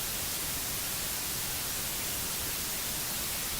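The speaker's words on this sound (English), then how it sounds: "That's just TV static." Continuous TV static white noise, a loud, even broadband hiss with no variation, breaks or voices, fills the whole stretch.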